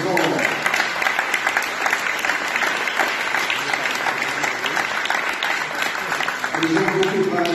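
Steady applause fills a town council meeting in La Ferté-Bernard where a new mayor is elected, many hands clapping continuously and loudly throughout, with faint voices underneath.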